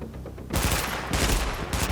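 Gunfire in the video game Tom Clancy's The Division, loud bursts of rapid automatic shots in two or three volleys, close and dense with no talk.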